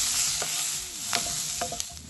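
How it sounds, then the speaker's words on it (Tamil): Onions sautéing in a pan, a soft steady sizzle with a few brief stirring scrapes, close, heard alone for a couple of seconds. "வெங்காயம் நல்லா வதங்கி வரணும்"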